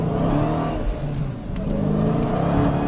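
A Dodge Challenger Hellcat engine revs and hums steadily, with a deep rumble rising and falling slightly throughout, heard from inside the car with no talking.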